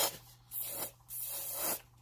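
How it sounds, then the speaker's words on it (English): Hairspray hisses onto a glitter Christmas ornament in three short, close bursts, each a sharp airy spray separated by brief pauses, with no talking. "you can take hairspray, spray it in there"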